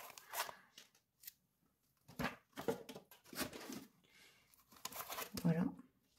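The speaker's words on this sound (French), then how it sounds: "je vais enlever toutes les enveloppes" Paper budget envelopes are handled and pulled out, producing soft crinkles, rustles and taps scattered throughout while someone talks over them.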